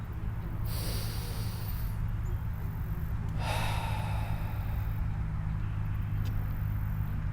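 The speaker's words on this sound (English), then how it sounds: "And just take a breath with me." A person takes a slow, deep breath, a soft airy inhale and exhale rising and falling twice over steady low room hum, fairly close and quiet, with no talking.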